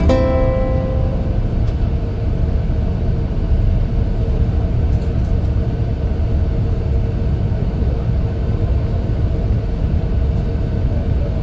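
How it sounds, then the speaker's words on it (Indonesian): A Gunung Harta bus drives off a ferry ship, a loud continuous low engine rumble filling the space with a steady drone and no clear talk. "ini dia bus Gunung Harta proses turun dan keluar dari kapal"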